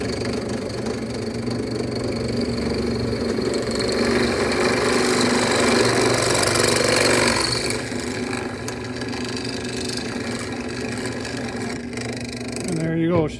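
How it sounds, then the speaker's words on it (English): A steady mechanical drone of a power drill grinding through the metal of a Blackstone Tailgater grill, loud and continuous, with a brief rattle near the end. "you can see we're drilling"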